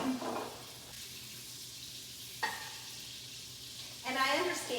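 Butter and olive oil sizzle and foam in a pan for lemon pasta, a steady close frying hiss broken by a few brief louder stirring scrapes, with no talk.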